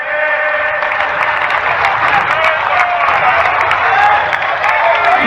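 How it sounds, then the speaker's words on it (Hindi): A crowd at a BJP party event gives party leaders, including Home Minister Amit Shah, a loud, continuous round of applause with a few cheers mixed in. The clapping is close and full and lasts the whole stretch. "जोरदार तालियों से हम हमारे नेताओं का स्वागत करेंगे"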